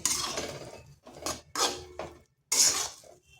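Semolina and carrot dough being stirred in a wok over low heat, heard as close scraping and knocking strokes of a utensil against the metal in short bursts separated by brief pauses.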